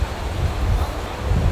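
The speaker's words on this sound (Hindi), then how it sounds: "बट क्या हवा चलने लग गई अचानक से" Strong wind gusts outdoors at Hudson Yards in New York as a storm approaches, a low rumbling buffet across the microphone with steady broadband rushing.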